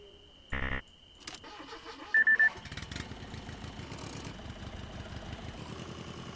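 An old car in the driving game Jalopy cranks after a few beeps and clicks, then its engine catches and settles into a steady, rumbling idle, with no voices.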